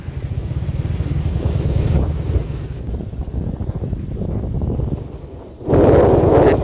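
A motorcycle ride in cold, rainy weather brings a steady roar of wind buffeting the microphone over a low engine rumble, which swells into a louder rush near the end.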